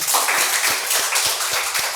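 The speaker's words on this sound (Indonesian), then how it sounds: "Boleh tepuk tangan?" Audience clapping at an Indonesian small-business talk show, a steady broadband patter of many hands with a few sharper individual claps, moderately loud and continuous for the whole span with no voices over it.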